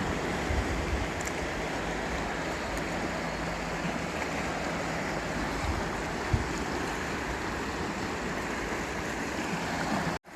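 Steady, broadband roar of surf on a wild beach near Roscoff, continuous and fairly loud with wind noise mixed in, no voices.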